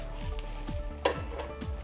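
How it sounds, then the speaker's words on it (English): Cabbage frying in a pan as its water cooks out, a soft steady sizzle close by with faint stirring scrapes and a small clink of the utensil. "If you hear that sizzle, that's a lot of the water coming out of the cabbage"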